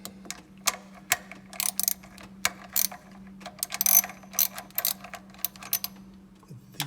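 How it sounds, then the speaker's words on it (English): A ratchet clicks in short, irregular bursts with metallic ticks and clanks while a ground bolt is loosened in the engine bay of a DeLorean DMC-12, alongside a steady low hum, no speech. "I need to remove this ground bolt."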